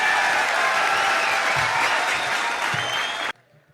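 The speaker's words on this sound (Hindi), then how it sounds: "भरपूर तालियों में इस्तक़बाल कीजिए" Dense, loud applause from a mushaira audience fills the hall evenly for over three seconds, then cuts off sharply into quiet.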